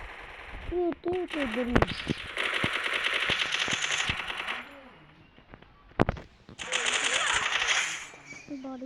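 Rapid automatic gunfire in a shooting video game, two long sustained bursts with a few single shots between, loud and close, while someone talks excitedly over it.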